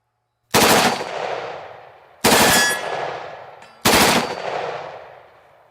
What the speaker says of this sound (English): Let's try a 3-shot burst.